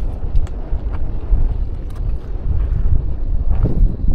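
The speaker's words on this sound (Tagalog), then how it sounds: "Medyo may mahangin dito" Wind blows at a fishing spot in gusty, low buffeting rumbles against the microphone, with a few faint knocks scattered through the short stretch.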